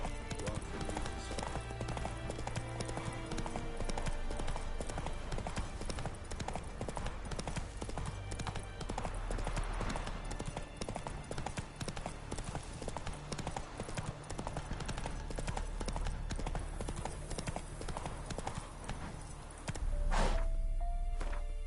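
Roach the horse galloping in Witcher 3, with fast steady hoofbeats drumming across the whole stretch under game music and ambience, ending in a brief snort or whinny.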